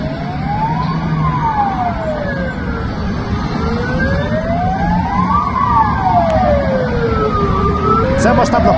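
A fire engine siren wails at a large blaze in a railway depot at Alabushevo near Zelenograd, outside Moscow. The tone sweeps slowly up and down in long, repeating cycles, loud and continuous over a steady rumble of background noise.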